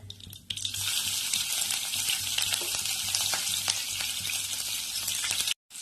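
Finely chopped green chillies hit hot oil that already holds fried cumin seeds and a close, loud, steady frying sizzle follows, with a brief stirring scrape before it cuts off near the end.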